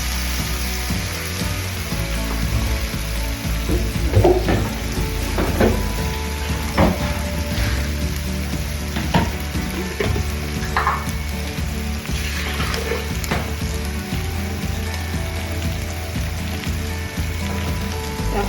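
Chicken feet coated in spicy rica-rica spice paste sizzle and crackle in a pan, with scraping stirs and clinks breaking through a continuous close frying hiss; nobody speaks.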